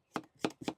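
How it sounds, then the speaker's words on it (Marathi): Three sharp knife chops through an onion on a cutting board, close and evenly spaced, with short quiet gaps between strikes, during home preparation of a village-style cucumber bhaji. "कांदा कट करून घेऊ"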